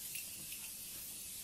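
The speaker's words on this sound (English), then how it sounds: "I'm gonna use my Morphe setting spray." A short fine hiss of Morphe setting spray misted onto a face, a few quick soft bursts, quiet and close with no talk.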